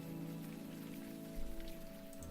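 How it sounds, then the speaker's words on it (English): Rain in the adventure game Unavowed falls as a soft, continuous patter of drops on a surface, faint and even throughout, with a low rumble swelling briefly midway and no voices. "It's just raining."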